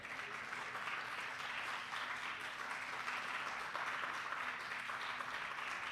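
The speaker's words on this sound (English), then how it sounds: "Let's have a huge applause for Atreya, sir." Steady, dense applause from an audience at a university talk on wildlife and photography, fairly distant and even throughout with no voices on top.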